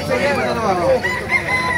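A white kelso rooster crows in a wet poultry market at Bocaue, its long harmonic calls rising over a crowded, noisy background of chatter and other birds.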